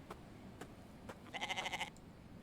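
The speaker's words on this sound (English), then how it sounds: "I heard it. Yep, it's another goat." A goat bleats in the survival video game The Infected: one short, wavering call rising over faint ambient noise after a few soft thuds, with no talking.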